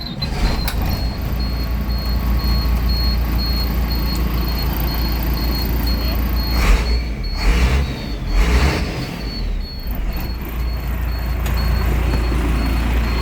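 A school bus idles with a steady low engine rumble while its air brakes are pumped down, with a few bursts of hissing air release around the middle against the constant drone.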